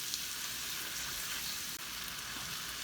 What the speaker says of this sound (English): I'm going to add the garlic and stir that in.